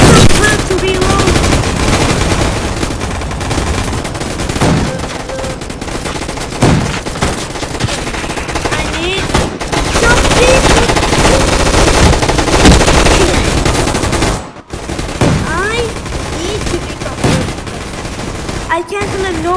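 Dense, loud automatic gunfire rattles almost without pause from a shooter video game, with bursts overlapping into a continuous fusillade and only brief gaps.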